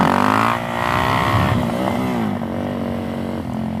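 Suzuki DRZ 400SM supermoto motorcycle accelerating in first gear, a loud close engine note climbing and dipping in pitch as the revs rise, with no talk over it.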